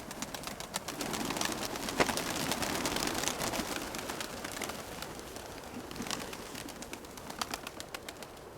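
Pigeons coo softly in a steady chorus against a busy, hissy background, with occasional sharper chirps rising above the murmur.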